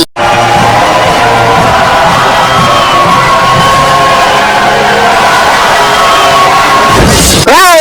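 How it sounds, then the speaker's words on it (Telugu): A large crowd at a five-kilogram weightlifting contest cheers and shouts loudly and continuously, a dense roar of voices that swells and carries to the very end. "అందరూ చప్పట్లతో బాబు గారిని ఎంకరేజ్ చేయండి"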